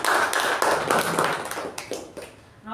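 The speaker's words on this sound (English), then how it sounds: "So please give us a huge round of applause for Toastmaster Shiva and Toastmaster Vaibha" An audience at a Toastmasters club meeting claps in brief applause, a fairly close patter of many hands that fades out over a couple of seconds.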